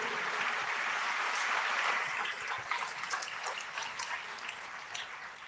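Crowd applause at a religious gathering, a thick, steady clatter of many hands that holds strong for a couple of seconds, then thins and softens toward the end, with no talking.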